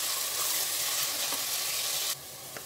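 Onions fry in oil with bay leaves, black cardamom, cinnamon and cloves, a loud, dense, close sizzle that drops abruptly in level near the end.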